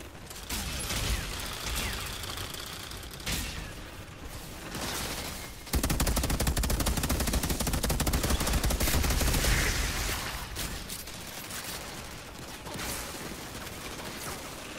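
Gunfire from enemies in the video game Outriders, rapid bursts and volleys crackling continuously, louder and denser through the middle with mechanical clatter underneath.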